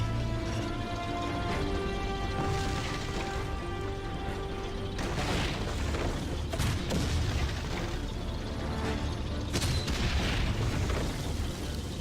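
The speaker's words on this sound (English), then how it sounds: "Shooting trees is fun." Gunfire and heavy booms from the WWI video game Valiant Hearts: The Great War as shots strike trees, a dense, continuous loud battle din with repeated impacts and crashes layered over droning game music.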